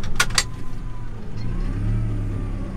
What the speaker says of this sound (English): Now I've met a car.